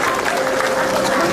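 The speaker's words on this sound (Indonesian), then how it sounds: "tepuk tangan dulu untuk Akbar." A studio audience at an Indonesian comedy talk show claps for a guest, Akbar, a short, even burst of crowd applause with voices mixed faintly underneath.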